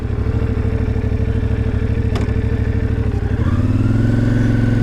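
IBEX 450 motorcycle fitted with a 15-tooth sprocket on a commute, engine droning close and steady with a shift and rising rev near the end.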